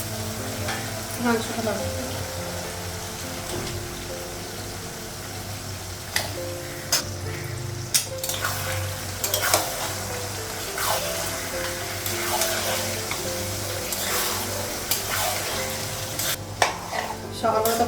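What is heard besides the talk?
spices frying in a pan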